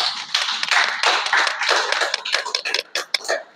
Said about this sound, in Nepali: र एकअर्कालाई पनि हामी ताली बजाएर स्वागत गर्छौँ।